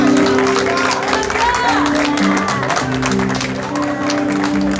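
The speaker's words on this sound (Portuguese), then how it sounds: "aplaude a Jesus, aplaude ao Senhor, aplaude ao Senhor" A church congregation at an evangelistic crusade applauds continuously, a loud wash of clapping and crowd noise with a preacher's voice speaking prominently over it the whole time.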